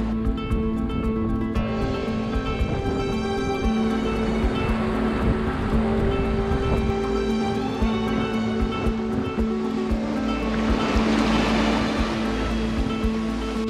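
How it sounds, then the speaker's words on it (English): Strong wind and rough Pacific sea around a sailboat: steady roaring wind noise and churning surf, with a swelling rush of waves near the end and no talk. "The wind has really picked up. The sea picked up as well."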